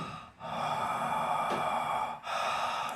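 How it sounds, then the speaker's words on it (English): A long, slow, deep breath drawn through the mouth with a raspy throat sound like Darth Vader, steady and close, broken by two brief pauses between breaths. "We're wanting that sort of Darth Vader sound in the back of your throat."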